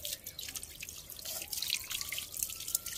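Tap water trickles and splashes steadily while a puppy is bathed outdoors, a close, continuous patter of droplets at moderate volume with no talking.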